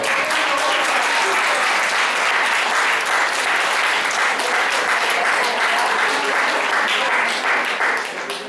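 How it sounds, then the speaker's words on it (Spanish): An audience at a panel gives sustained, steady applause, loud and even throughout with no break, easing off only at the very end. "Si no se para, dice que le demos un aplauso."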